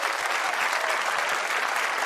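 A studio audience at a Portuguese comedy game show bursts into full, steady applause, loud and continuous for the whole span with no pauses.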